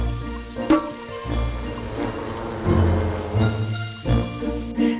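A rain sound effect in a French children's song: a soft, hissing patter of drops and trickling water mixed under the music's sustained tones and a bouncy bass line.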